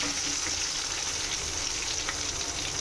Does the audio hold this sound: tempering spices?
yes